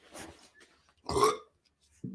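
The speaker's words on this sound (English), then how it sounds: "Did not mean to just burp on YouTube." A man lets out a loud, close burp in the middle of a quiet indoor moment, with brief bits of other sound before and after it.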